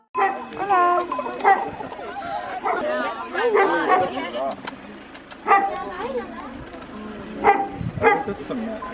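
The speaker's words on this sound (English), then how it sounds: "You're such a good dog." A dog barks in short, repeated yips and woofs amid cheerful human chatter, with the barks rising through the talk at intervals.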